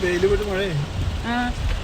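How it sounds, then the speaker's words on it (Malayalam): Steady rain patters over a wet surface throughout, with a voice talking over it. "നല്ല മഴയായി പെട്ടെന്ന് ഇങ്ങനെ ഇത്ര മഴ പെയ്ത്"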